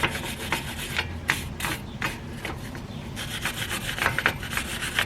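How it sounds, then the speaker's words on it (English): A hand tool scrapes and scrubs rust from the front wheel hub of a Lexus RX330 during a brake rotor change, a close, repeated rasping in quick uneven strokes. "I'm going to go ahead and scrape off this rust here on the hub so the new rotor has a nice, clean, rust-free surface"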